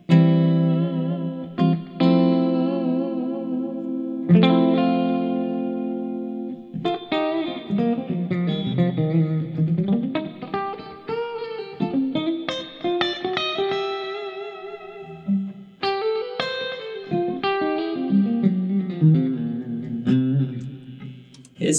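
A PRS Custom 24 electric guitar on its neck single-coil pickup plays a run of ringing, sustained notes and chords with effects, alone and fairly loud with clear pick attacks throughout.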